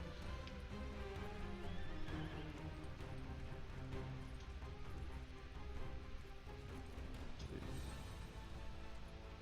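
A draft horse whinnies while hooves clop steadily nearby, with a dense, continuous background of rustling and movement.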